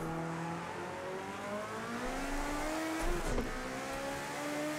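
A Group 5 race car with a five-speed manual H-pattern gearbox at full turbo boost accelerates in Project Cars 2, its engine whine climbing steadily in pitch, loud and continuous, dipping briefly around a shift before rising again.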